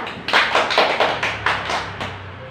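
Classroom applause for a student: a short burst of hand clapping from a small group, about five or six uneven claps, near and moderately loud, fading at the end.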